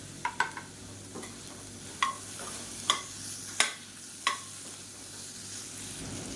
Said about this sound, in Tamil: காலிஃப்ளவர் சேர்த்து நல்லா வதக்கியாச்சு